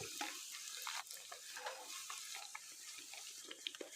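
A crumb-coated egg zinger sizzles in hot oil while more oil is spooned over it, giving crackling, splashing bursts and quiet scraping at close range, with no voices.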